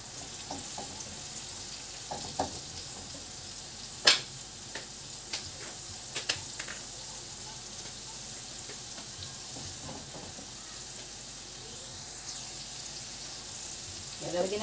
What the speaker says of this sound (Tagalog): So, lalagyan na natin yung ating tomatoes.